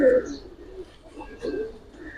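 A Giribaz pigeon held in the hand gives soft, low coos, faint and intermittent at close range.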